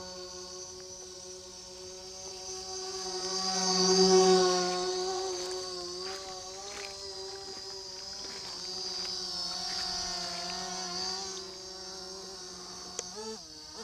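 Mirarobot M600 VTOL fixed-wing RC plane motor in flight, a thin buzzing whine at low throttle that swells as the plane passes closer, fades slightly, then rises again, heard from the ground outdoors.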